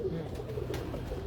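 Pigeons coo softly in a short, low murmur, somewhat distant and faint against a dull background hum.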